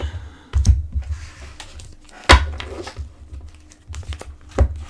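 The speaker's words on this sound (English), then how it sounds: "let me shuffle the cards and prep them for the one-on-one relationship spread" A deck of oracle cards being shuffled by hand up close, giving a run of crisp papery riffles and slaps in uneven bursts, with no voices.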